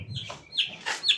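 A pet turkey calling close by, three short clucking, chirpy yelps in quick succession, with no talk.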